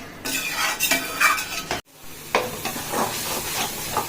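Mutton curry cooks in a pan as a spoon stirs it, giving soft scraping and sizzling with a steady bubbling hiss. There is one brief pause partway through.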